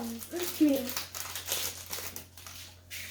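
A Pokémon trading card booster pack wrapper is crinkled and torn open in short, close, scrunching bursts. A voice speaks briefly over it.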